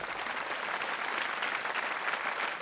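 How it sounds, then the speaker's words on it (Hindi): Steady, dense applause from a large game show studio audience, loud and continuous throughout with no voices standing out. "तालियां बजती रहनी चाहिए देवी और सज्जनों।"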